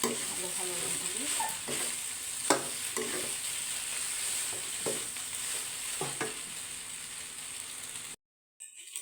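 A spoon stirs and scrapes through boiled macaroni in a pan, giving irregular soft scrapes and clacks over a steady sizzling hiss, ending in a brief silence.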